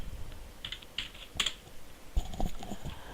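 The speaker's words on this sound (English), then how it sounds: "here it wants me to type in the password again." A password is typed on a computer keyboard as a few soft, scattered keystrokes followed by a quicker cluster of taps, close by and quiet, with no talking.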